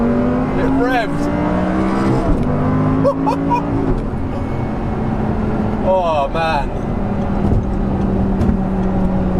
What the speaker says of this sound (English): Naturally aspirated engine, so freely revving.